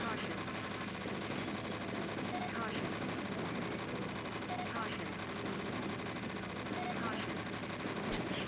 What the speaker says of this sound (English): So I just aim up, or stay still, aim up, and just shoot.